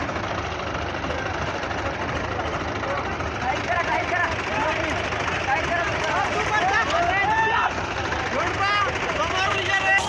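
Five tractors chained together labour to pull a stuck sugarcane load, engines roaring and knocking under heavy strain, loud and steady with rising revs, while people talk and shout over the din.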